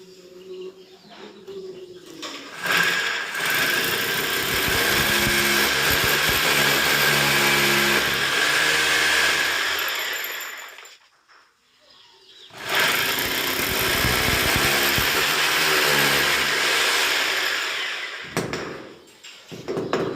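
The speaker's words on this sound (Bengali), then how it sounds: "সুন্দর দিয়ে ড্রিল করতেছি দেখতে পাচ্ছেন" An electric drill bores into a wall to mount a round LED light, whirring loudly and close in two long, sustained runs separated by a short pause.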